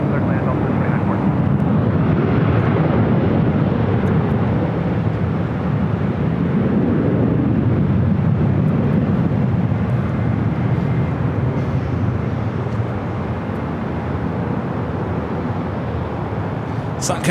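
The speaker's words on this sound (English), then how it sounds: "Sun Country Airlines Flight 8467 heading to Kahului, 737-800" A Sun Country Airlines Boeing 737-800 takes off at Los Angeles International Airport: a loud, sustained jet roar that swells and shifts in tone as the plane climbs away, then eases slightly toward the end.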